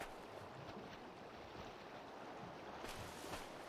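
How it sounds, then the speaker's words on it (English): Water ambience in the survival video game ARK: Aberration, a faint continuous wash of rushing, surf-like noise with a low rumble, steady and distant, swelling slightly near the end with no talking. "I hear water."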